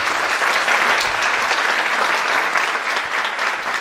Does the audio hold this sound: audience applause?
yes